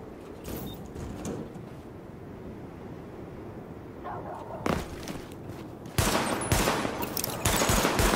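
Gunfire rings out during a weapon test at highlighted targets in The Division video game, with scattered single shots first, then louder, denser bursts of rapid fire toward the end.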